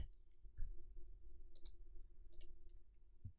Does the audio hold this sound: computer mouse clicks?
yes